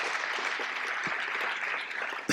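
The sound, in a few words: audience applause for guest speakers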